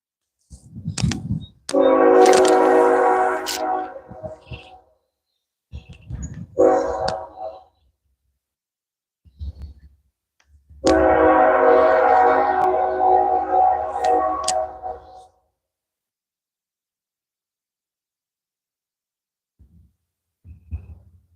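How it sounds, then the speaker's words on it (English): A passing train's horn sounds in two long, loud blasts with shorter honks between, separated by silence, nearby. "Train."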